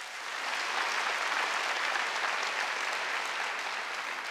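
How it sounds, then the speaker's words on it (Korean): A congregation at a Wednesday church worship service claps in a dense, even burst of applause that holds steady for a few seconds. "깨달은 사람만 박수 쳐라."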